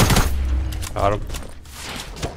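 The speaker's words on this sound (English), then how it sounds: "Somebody's still shooting." Gunfire in the Fortnite battle royale game comes as a quick burst of sharp shots at the start, followed by a few fainter distant cracks, under players talking.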